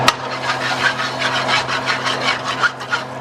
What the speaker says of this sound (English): I want to scrape up everything off the bottom.